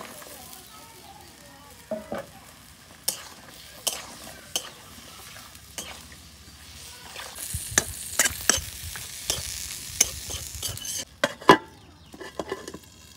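Sizzling masala fries in a pan as beans and potatoes are added and stirred, with repeated scraping and clinking of a spoon against the pan over a constant hiss.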